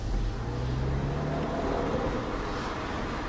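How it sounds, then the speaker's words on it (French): A Porsche 997 Carrera MKI with a SCART exhaust drives with the windows open, its steady low engine and exhaust drone heard from inside the car, loud and continuous. "on entend l'échappement un petit peu comme si on était à l'extérieur du fait de la proximité du mur"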